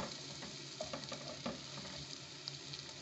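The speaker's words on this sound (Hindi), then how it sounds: "और हम कलवंजी और राई ऐड कर देंगे, इसको भी फ्राई करेंगे" Nigella and mustard seeds frying with onion and ginger-garlic paste in a pan, a faint, low crackling sizzle with soft stirring, quiet and without talk.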